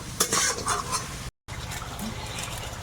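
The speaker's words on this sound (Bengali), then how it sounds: "এবারে মশলার সঙ্গে ভালো করে একদম কষিয়ে নেব" Crab curry with spices being sautéed in a pan, a brief bout of stirring and clinking against the pan over a soft sizzle, with a short break partway.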